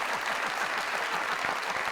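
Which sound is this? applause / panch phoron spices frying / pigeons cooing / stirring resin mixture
applause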